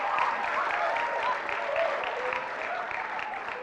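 A television competition audience applauds continuously, a dense, even patter of many hands clapping throughout, with a voice faintly present beneath.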